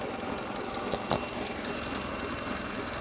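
A 2002 Mercedes A-Class engine idles steadily at close range, a continuous even rumble with no voices over it.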